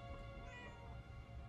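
A cat meows in the video game Murdered: Soul Suspect, a short drawn-out wail heard over a steady tonal game background hum.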